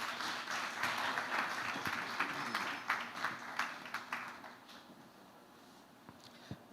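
Conference audience applause rolls on as dense, moderately distant clapping, thinning and tapering off toward the end with a few scattered last claps.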